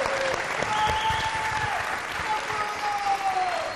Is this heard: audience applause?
yes